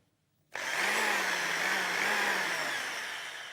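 A 650-watt electric drill spinning freely with no load starts abruptly after a brief silence, then gives a loud, steady motor whine that eases slightly near the end, with no voices.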